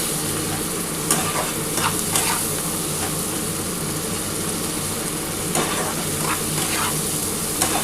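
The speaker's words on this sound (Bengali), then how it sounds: "দেখো আমি খুব ভালো করে মশলাটা ভেজে নিয়েছি" Masala with tomato fries hard in a pan, a dense continuous sizzle with a low hum beneath and occasional sharp spatula scrapes and clicks as it gets stirred.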